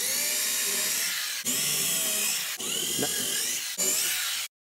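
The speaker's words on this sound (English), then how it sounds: "Then I pre-drilled holes for quarter inch lag bolts." A power drill pre-drills holes for quarter-inch lag bolts to mount shelf brackets in a wall, giving loud, close, sustained whining bursts in three or four runs separated by short pauses, with no talking.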